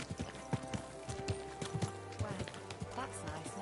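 Horse hooves clip-clop in the medieval video game Kingdom Come Deliverance 2, a quick uneven stream of hoofbeats close by, with voices murmuring over them.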